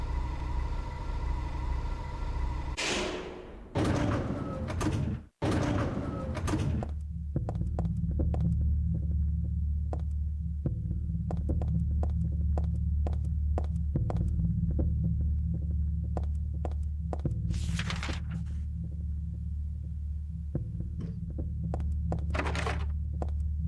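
In the Silent Hill 3 video game, a hospital heartbeat sound effect throbs as steady, deep, low pulses over a constant hum, with occasional sharp clicks and brief bursts of noise.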